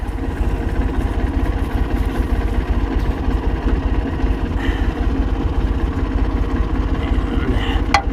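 A tractor runs steadily at close range while mowing a cover crop, its engine drone continuous and even, with a few faint clicks and knocks late on.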